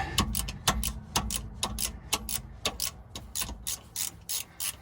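A socket wrench ratchets on a bolt of a 1992 Crown Victoria during a tune-up, giving a series of sharp, close clicking bursts in an irregular rhythm, with no talk.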